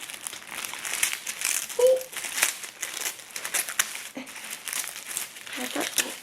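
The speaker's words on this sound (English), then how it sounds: "So there's a bit more tissue paper." Tissue paper crinkles and rustles steadily as a Chanel Boy Bag is unboxed, close and continuous with brief crunching bursts throughout.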